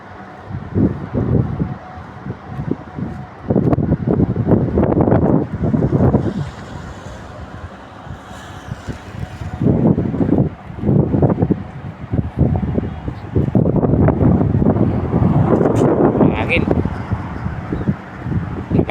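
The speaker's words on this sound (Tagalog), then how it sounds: "lakas ng hangin" Strong wind buffets the microphone in rumbling gusts while a person walking alone outdoors to a bus stop talks intermittently over it.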